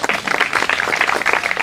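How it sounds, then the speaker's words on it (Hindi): Crowd applause at an outdoor village event in Uchana, a dense, steady clapping wash sustained throughout at moderate loudness, with no voices standing out. "आपके लिए भी जोरदार तालियां जी।"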